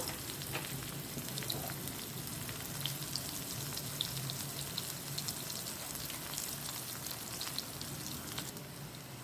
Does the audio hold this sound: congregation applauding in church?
no